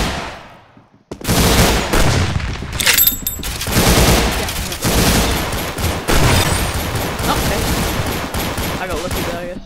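Rapid bursts of gunfire fill a Roblox gun-game match, loud and continuous after an opening quiet moment, with a voice talking underneath the shooting.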